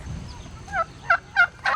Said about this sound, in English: Whoa, you're a dusty turkey